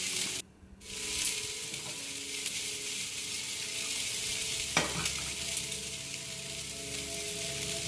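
Onions sweat and sizzle in a pan for a country style rib sandwich, a steady close frying hiss that briefly drops out near the start, with a single clink of stirring midway.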